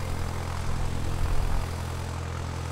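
Propeller airplane engine in the Poptropica video game, a steady droning hum with a low buzzing tone that swells slightly midway and then holds evenly, close and unaccompanied by talk.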